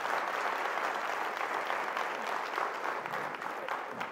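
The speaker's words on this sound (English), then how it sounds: "Just another round of quick applause." Steady audience applause at a risk and finance symposium, a dense patter of clapping that holds evenly for about four seconds at moderate level with no voices over it.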